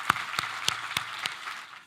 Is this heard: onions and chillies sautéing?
no